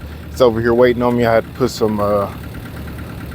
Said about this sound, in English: I got the tractor fired up.